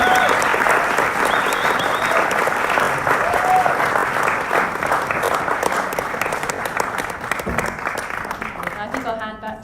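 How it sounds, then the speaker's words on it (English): Loud audience applause for a storytelling panel at a livestreamed event, thick continuous clapping from many hands that slowly thins and fades toward the end. "I'd love you to all give them a big round of applause."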